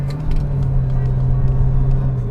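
A JDM-style car accelerates on a test drive in manual mode, its engine a steady low droning rumble heard from inside the cabin with no pauses.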